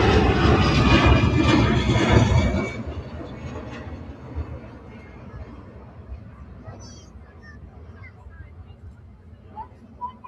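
Jet engines of an Airbus airliner roar loudly at Manchester Airport, then fade to a lower distant rumble while voices murmur in the background.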